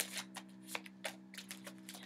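Soft, quiet riffling bursts of cards being shuffled, several quick flutters in an irregular rhythm over a low steady hum.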